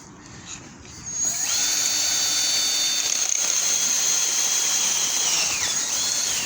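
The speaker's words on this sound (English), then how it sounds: "now we'll run the 3/4 inch drill through the bushing we've already installed" A power drill with a 3/4 inch bit whines steadily at high pitch, its tone dipping slightly as it bores out a metal bushing on a 1964 Ford Galaxie, loud and close.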